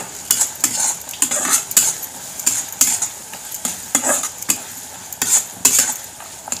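Onion with garlic and ginger sautés in a pan on a wood-fired stove, with about a dozen sharp, rhythmic scrapes and clinks of a utensil against the pan over a faint sizzle, close and clear.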